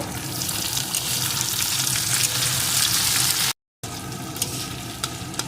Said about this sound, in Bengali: এখন এগুলোকে একটু ভেজে নেব